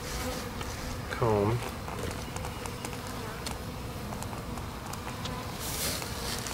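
Honey bees buzz steadily around a package being installed in a hive, a constant close insect drone with a brief louder burst of movement early on and soft talking over it.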